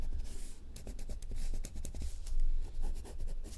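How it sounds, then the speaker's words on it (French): Pencil marks rubbed out with an eraser on watercolour paper, a run of quick scratchy back-and-forth strokes, close and fairly quiet, with no talking. "On gomme."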